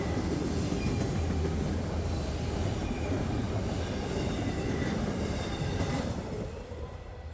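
A freight train of trash containers and auto racks rolls past in a steady, loud rumble of wheels and cars, with faint metallic squeals and clatter, easing slightly at the end.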